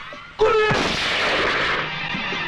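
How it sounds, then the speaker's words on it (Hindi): Gunfire in a Mithun Chakraborty Hindi action film scene: a sudden loud burst of shots with echoing booms that rolls into a sustained, noisy barrage lasting a couple of seconds before easing. "गुरु जी गोलियों की आवाज ऐसी होती क्या"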